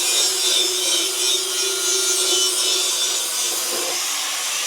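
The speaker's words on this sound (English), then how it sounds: "he's using the flat disc on the grinder just to make that really nice and shiny" An angle grinder fitted with a flat abrasive disc polishes a pitted metal carburettor elbow from a Series 3 Land Rover, making a loud, continuous abrasive hiss and rasp that stays steady throughout.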